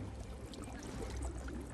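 Water pours and gushes into a damaged ship's hull in the Sea of Thieves video game, a faint steady rushing and trickling sound with no talk.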